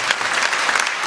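A church congregation claps together in a brief, busy burst of applause, continuous and fairly loud throughout, with no voices on top.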